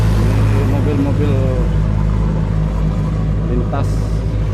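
Cars and trucks passing on a busy inter-province road at night near a fishing spot, a steady loud rumble of engines and tyres close by, with someone talking over the traffic.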